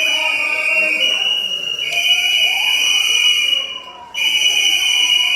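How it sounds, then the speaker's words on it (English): Shrill, steady whistle tones blown at a fur ban protest in Toronto, Ontario, sounding loud and close and nearly continuous, with one brief break near the end and voices underneath. "Blowing these shrill whistles, trying to cause hearing damage."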